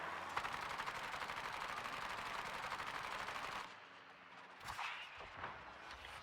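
Naval guns firing high-explosive shells in the battleship game, a dense, rapid crackle of gunfire for several seconds, then quieter scattered blasts and thuds.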